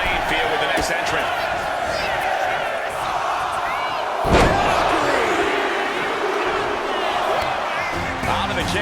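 Arena crowd in the WWE 2K25 game roaring continuously during a War Games match, a loud dense cheer with one sharp slam midway, under a commentator's voice.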